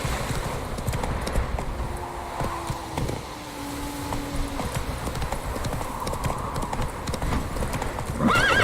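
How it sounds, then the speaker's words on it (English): Hooves of a galloping horse in The Witcher 3 drum steadily and close for several seconds, with a whinny and game background sounds around them. "Not so fast, Roach"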